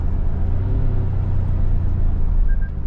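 Engine of a 2025 Toyota 4Runner SR5 4x4 climbing a hill with manual gear selection, a loud, steady low cabin rumble with slight shifts in pitch, heard from inside the vehicle.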